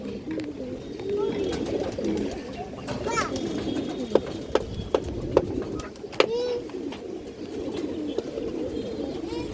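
Pigeons of several fancy breeds coo in low, rolling calls throughout, with a few sharp clicks and flutters, while someone talks steadily over them close by.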